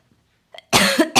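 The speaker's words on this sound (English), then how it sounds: "I have a sneeze and a cough." A person gives two loud, close coughs in a quiet indoor room, the second following shortly after the first, with a small throat sound just before them.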